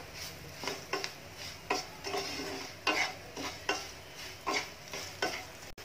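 Garlic chutney mixture with asafoetida is stirred in a hot pan over low heat: a rhythmic run of about a dozen close scraping strokes over a soft sizzle.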